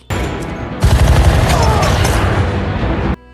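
Rapid gunfire erupts in a police shootout with gangsters, a sudden loud dense volley of shots and booms that runs for a few seconds, then cuts off abruptly.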